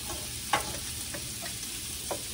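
Onions frying in a pan with sausage, giving a steady close sizzle throughout, broken by a few soft stirring scrapes and clicks.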